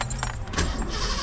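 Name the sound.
car engine starting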